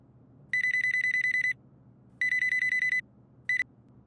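Telephone ringing in bursts during a call in a Hindi comedy show: two long electronic rings of about a second each, then a short third ring, clear over a quiet room.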